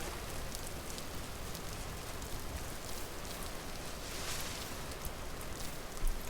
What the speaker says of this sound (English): I think we're getting away from the rain here at some point